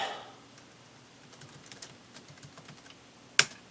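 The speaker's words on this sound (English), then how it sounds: "Type my name in." Keys tapped on a Dell Inspiron 2650 laptop keyboard during Windows XP setup: a quiet, irregular run of soft clicks followed by one sharper, louder keystroke near the end, with no talk.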